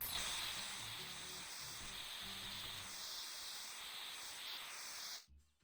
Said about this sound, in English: Red spray paint?